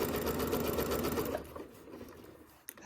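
A sewing machine runs steadily through a Shoo Fly quilt block, its rapid needle chatter close and even for over a second before slowing and stopping, followed by soft fabric handling.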